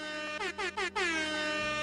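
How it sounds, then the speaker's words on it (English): An air horn sound effect blares in several short stuttering blasts, then one long sustained honk that slowly fades, loud and alone with no talking. "Should have played the air horn after every sentence"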